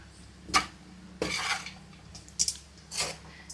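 A utensil scrapes and clinks against a pan while a coconut dish is stirred, in several separate bursts of metallic scraping with short pauses between them.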